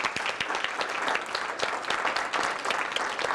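An audience gives warm applause welcoming musicians from a music workshop, continuous mid-distance clapping with sharp individual claps standing out, steady throughout.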